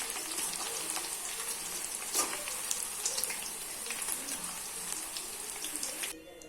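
Cauliflower manchurian pieces frying a second time in hot oil, a dense steady sizzle with occasional bubbling bursts that cuts off near the end.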